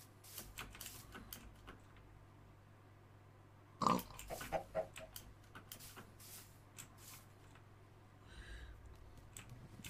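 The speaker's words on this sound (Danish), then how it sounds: "Nej, der er en gris hernede," Pig oinking in a Minecraft world, a short grunting burst standing out among faint clicks and soft game sounds, then quieter scattered noises.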